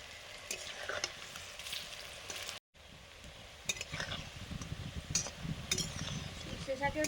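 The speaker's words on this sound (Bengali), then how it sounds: "সর্ষে শাকের বড়াগুলো ভাজছি এখন।" Mustard greens fritters bubble and sizzle in hot oil while a utensil stirs and scrapes the pan, with a steady frying hiss broken by a brief gap and irregular clinks and crackles throughout.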